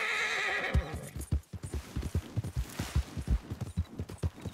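A mare in Red Dead Redemption (RedM roleplay) gives a whinny at the start, then her hooves clip-clop in a steady, close, fairly loud rhythm for several seconds.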